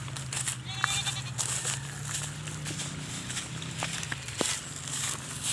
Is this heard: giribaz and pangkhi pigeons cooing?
no